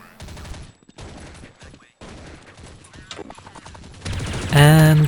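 Tactical Machine Pistol gunfire in Counter-Strike: Condition Zero, a suppressed weapon giving quiet rapid bursts, with several short clusters of shots and a louder burst near the end.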